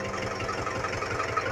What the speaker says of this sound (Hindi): गाड़ी अभी स्टार्ट हो चुका है